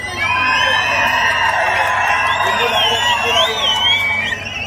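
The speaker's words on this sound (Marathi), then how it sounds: "शिट्या आणि टाळ्या" Loud, steady crowd noise at a Shiv Sena political rally, with sharp whistles and whoops sliding over a constant roar of cheering voices from start to finish.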